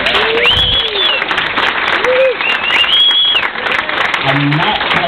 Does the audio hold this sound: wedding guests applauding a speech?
yes